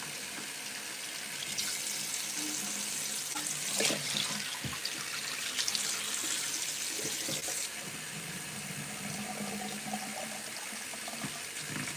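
Running tap water fills and rinses a bong, a steady close gush of splashing water that swells and shifts as the piece is filled and swirled. No one speaks.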